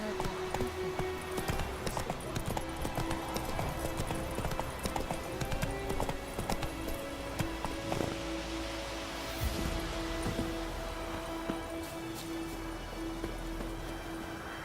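Roach, Geralt's horse in The Witcher 3, trots with dense, continuous clip-clop hoofbeats that carry on throughout, close and fairly loud, with a steady low ambient hum beneath.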